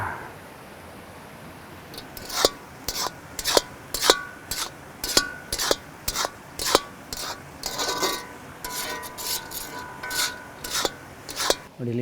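Chicken liver and gizzard fry in a pan while a utensil scrapes and clacks against the metal in a steady, quick rhythm over a low background sizzle.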